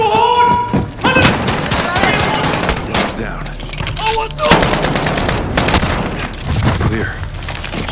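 Gunfire in Call of Duty: Modern Warfare (2019), dense bursts of rapid shots and thuds cracking through loud combat noise, with shouted voices mixed in.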